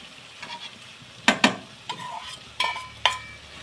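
Tomatoes are stirred into a pigeon pea curry cooking in a pan, with a low sizzle underneath and several sharp scrapes and clanks of a spoon against the pan at uneven intervals.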